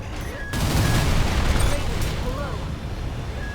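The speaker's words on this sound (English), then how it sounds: "Downside of getting close is that we do keep running into those explosions though." Game explosions and heavy weapon fire from a mech battle in Armored Core 6, a sudden loud burst followed by sustained rumbling blasts and crackling, with scattered mechanical tones and a voice speaking underneath.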